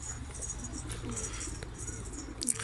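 A homing pigeon that had been gone for months and has come back coos softly and faintly, low murmuring calls over a quiet background, with no talking.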